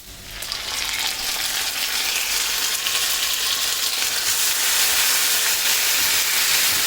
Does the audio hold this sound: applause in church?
no